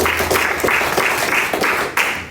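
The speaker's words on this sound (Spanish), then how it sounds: "Denle un aplauso a Cristo." A church congregation claps during a Spanish-language sermon, a steady roar of applause with a pulsing, roughly rhythmic swell about three times a second.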